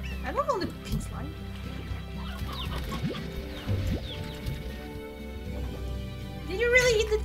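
A chicken in the video game Slime Rancher gives clucks and squawks that stand out over game music and ambience, while a player talks through most of the stretch.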